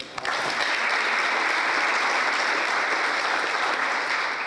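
A school board meeting audience breaks into a round of applause, dense and even from start to finish, loud and sustained with no talk over it.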